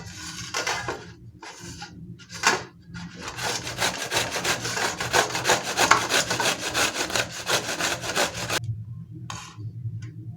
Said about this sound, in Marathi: किसणीची जी मोठी बाजू आहे तिथून कैरी घिसायची